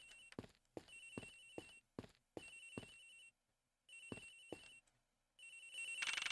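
A cell phone ringtone rings inside a locker in the Ace Attorney Investigations video game, playing repeated bursts of a bright melodic tune with short pauses between phrases, then swelling louder at the end.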